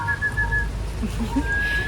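A thin, steady whistled tone holds for a moment, fades, then returns, over a low background rumble.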